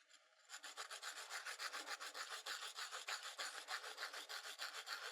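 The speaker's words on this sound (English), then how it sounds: "as I'm going over the surface of the sanding block" A pencil tip is rubbed back and forth against the rough textured surface of a foam-core sanding block, a quiet, close, rhythmic rasping with even strokes roughly every fifth of a second, no talk.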